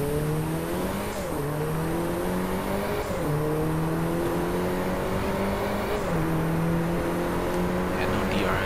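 Audi A1 quattro engine in the racing game Driveclub, revving steadily with repeated gear-change dips every few seconds, loud and continuous, with a voice talking over it.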